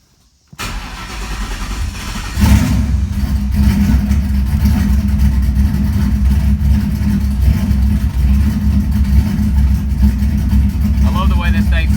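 A street car's engine cranks and catches at about half a second, then settles into a loud, steady, rumbling cold idle that holds close up to the end, with a light rise in pitch near the end.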